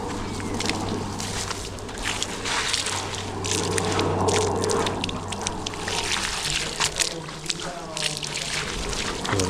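Water hosed steadily over freshly built brick masonry to cure it, a continuous hissing spray running the whole time, with someone talking over it.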